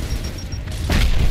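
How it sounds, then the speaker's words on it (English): Frag grenade blast in the Gears of War video game: a loud, broad boom bursts out about two-thirds of the way through, over a steady rumbling game background. "Throwing frag!"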